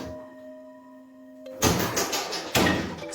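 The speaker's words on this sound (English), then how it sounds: "Something began opening doors in his new home." Doors in a house bang open twice, about a second apart, as loud, sudden, broad thumps that break a quiet, humming room.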